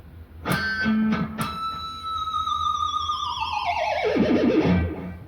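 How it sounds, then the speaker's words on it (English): An overdriven electric guitar picks a few notes, then a ringing harmonic slowly sinks in pitch with a wobbling vibrato as the whammy bar dives down. "And then you're going to dive bomb it with a whammy bar and a vibrato."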